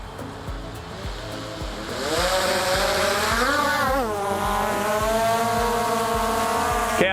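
A Skydio 2 or Mavic Air 2 drone spins up for an autonomous takeoff. Its close, loud motor whine rises steadily in pitch and then holds as a sustained buzzing drone over regular ticking clicks.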